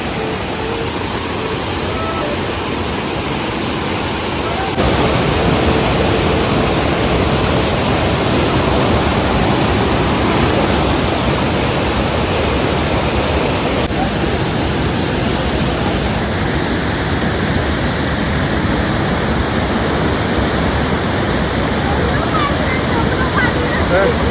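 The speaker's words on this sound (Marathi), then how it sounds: "प्रचंड पाण्याचा वेग आहे" Loud, steady roar of fast rushing water, broadband and continuous throughout, with faint voices mixed underneath.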